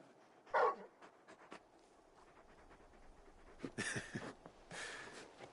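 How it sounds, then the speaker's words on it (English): A large dog companion in the Final Fantasy XVI video game pants and whimpers softly in short bursts, with quiet ambient game sound and a brief louder rustle between the breaths. "You're just a big puppy, aren't you? A very big puppy."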